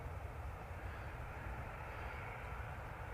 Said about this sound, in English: Gulf Air is just lining up.